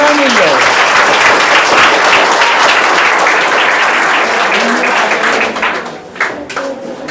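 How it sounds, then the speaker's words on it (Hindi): An audience of students bursts into loud, dense applause at a prize ceremony for a grammar test. The clapping fills the space, then thins out and breaks into scattered claps near the end, with voices mixed in. "आ जाओ, बजाओ ताली भाई।"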